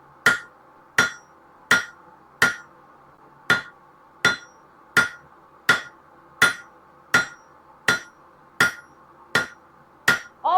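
A hammer strikes metal on an anvil at a forge in fourteen evenly spaced, ringing blows, each loud and close with a short metallic decay, while a grill fork is being made.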